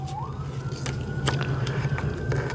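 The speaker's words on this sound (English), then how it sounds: "It's interesting that we're hearing the sirens and that we have the law and police." Police siren wailing steadily in the distance, a sustained rising tone that levels off and holds under a low constant background hum and scattered clicks.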